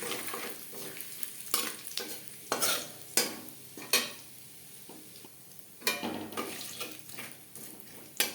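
Cumin seeds and a torn bay leaf frying in oil in a wok, a soft sizzle punctuated by several loud, spaced scrapes and clanks of a spatula stirring close by.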